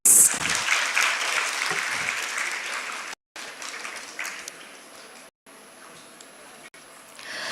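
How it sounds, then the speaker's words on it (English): Audience applause welcomes a clinical psychologist onto the stage at a women's empowerment seminar for college girls, a broad wash of clapping that fades gradually and breaks off briefly twice. "Welcome, ma'am, with a round applause."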